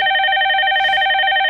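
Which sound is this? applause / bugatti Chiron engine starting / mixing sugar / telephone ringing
telephone ringing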